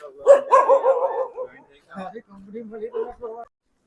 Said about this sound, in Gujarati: તો મિત્રો કુતરા પાછળ હેરાન કરી રહ્યા છે